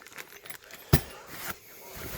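Small metal Allen keys for a Floyd Rose tremolo clink together with a sharp jangle, then a lighter rattle, amid quiet packaging rustles during a guitar unboxing.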